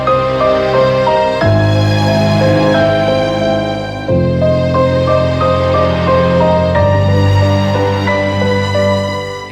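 Cinematic suspense cue built on piano chords with a layered melody and counter melodies, sustained and loud throughout, with chord changes marked by fresh low attacks every couple of seconds.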